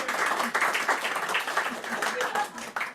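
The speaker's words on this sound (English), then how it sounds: "Thank you for clapping on my behalf." An audience claps at a poetry reading event, giving dense, steady applause from many hands at moderate distance. It holds for the whole stretch and fades slightly at the end.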